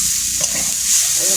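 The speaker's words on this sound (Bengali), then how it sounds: "ফুলকপি আলু, ভালোভাবে ভেজে নিচ্ছি" Cauliflower and potato frying in a pan, a loud, dense, continuous sizzle heard up close.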